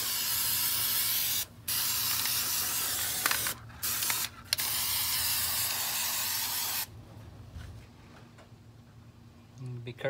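Aerosol carpet adhesive sprays in long steady hissing bursts broken by a few short pauses while lining the floor of a cargo van, then cuts off to near silence with faint handling noises.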